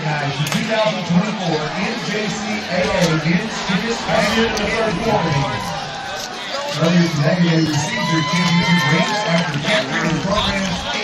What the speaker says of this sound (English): There's a heck of a crowd down there.